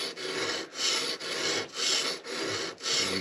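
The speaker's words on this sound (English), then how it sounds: "I'm trying to re-profile and sharpen it up and try and take metal off." A knife blade is sharpened with firm strokes that take metal off, giving five even, close rasping scrapes in a steady back-and-forth rhythm with short gaps between them.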